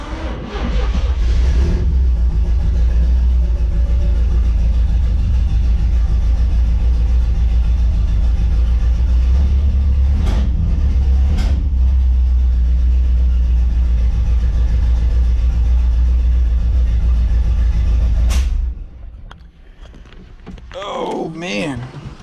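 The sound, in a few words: 1986 Camaro engine first start-up after spark plug install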